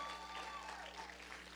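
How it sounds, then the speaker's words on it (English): A church congregation claps in celebration, a faint, brief wash of hands with a steady hum beneath and a sustained tone running through it. "And while you're clapping"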